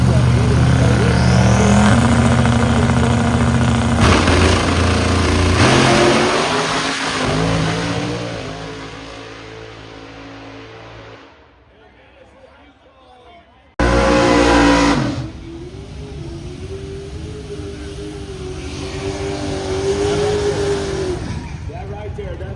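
An 1988 Sonoma drag race car with a 331 cubic inch engine at Brown County Dragway, loud and close, revving and roaring, fading to a lull, then blasting back in as an announcer talks over it.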